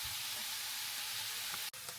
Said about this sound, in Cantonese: 我將啲洋葱全部將佢鋪平喺個鑊底，令到佢受熱均勻。